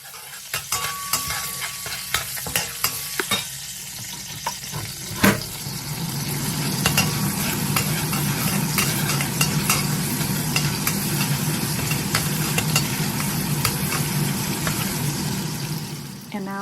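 Sichuan zajiang noodle sauce fries in a pan, a continuous close sizzle under repeated spatula scrapes and clinks that thickens into a steady loud frying hiss partway through.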